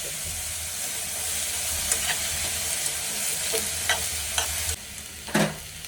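Grated coconut and byadagi chillies frying in a pan, a steady close sizzle with occasional crackles and scraping stir sounds, moderately loud and without talk.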